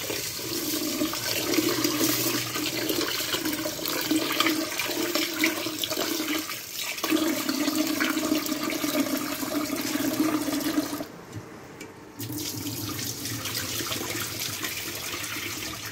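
Water running and sloshing as rice is rinsed to wash off its starch, a steady rushing stream that pauses briefly near the end before resuming, with no talking.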